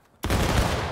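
An infantry company fires a massed rifle volley in a Civil War battle game at Bloody Lane. One sudden loud roaring burst of many overlapping shots starts after a brief quiet and fills the rest.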